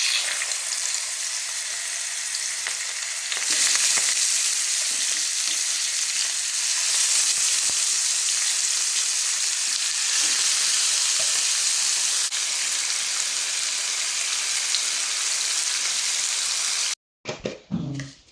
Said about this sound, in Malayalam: ഇനി നമുക്ക് ഫിഷ് ഫ്രൈ ചെയ്തെടുക്കാം